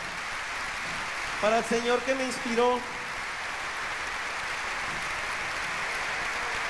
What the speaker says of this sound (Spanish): El aplauso fuerte